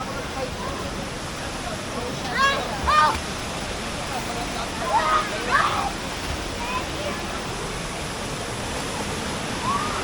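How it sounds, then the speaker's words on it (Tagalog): Clear running water from a natural spring flows steadily in a broad, constant rush close by, while people talk intermittently over it. "Running water yan. Walang chemical."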